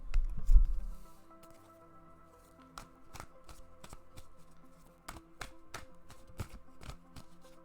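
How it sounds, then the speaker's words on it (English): Tarot cards are shuffled in a run of crisp, snappy riffles and taps, close and fairly quiet, following a soft thump at the start, with no speech. "I'm going to shuffle your tarot, Jazzy, and then I'll hop back on the mic."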